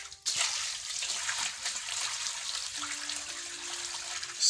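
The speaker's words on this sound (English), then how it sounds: "So let's change this water." Water pours and splashes steadily into a catfish juvenile pond during a water change, a continuous close rushing flow with a faint tonal hum joining partway through.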